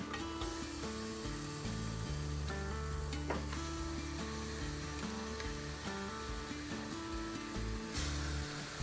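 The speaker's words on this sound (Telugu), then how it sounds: "ఇప్పుడు బాగా వేగిందండి మసాలా. అందులో మటన్ వేయండి." Mutton pieces added to well-fried masala in a pan sizzle loudly and steadily, with a constant close frying hiss and occasional stirring scrapes and knocks, no talk.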